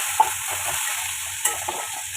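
Tomato is stirred as it fries in a pan with garam masala powder, a soft hissing sizzle under rhythmic low scraping strokes and a couple of brief clinks, close and fairly quiet.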